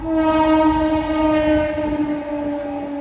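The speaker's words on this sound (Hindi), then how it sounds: "ट्रेन का शोर आ रहा होगा" A train sounds its horn near a railway colony, a loud, steady sustained tone over the low rumble of the passing train, close by and continuous.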